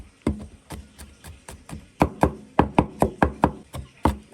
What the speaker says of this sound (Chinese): 这些全部蒜啊要切碎，来切碎。